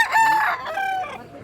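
A rooster crows loudly and close by, one full cock-a-doodle-doo call with no talking.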